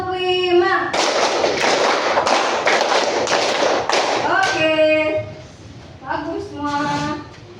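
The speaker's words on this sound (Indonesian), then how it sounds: "2 kali tepuk" A burst of many hands clapping together in a classroom lesson for several seconds, loud and close, with voices calling out before and after.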